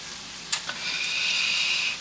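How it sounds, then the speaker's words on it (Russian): Eggplant coated in a thin liquid batter fries in a pan, giving a steady, moderately loud hiss and sizzle after a couple of brief clinks at the start, with no talking. "Пусть жарится, обжаривается."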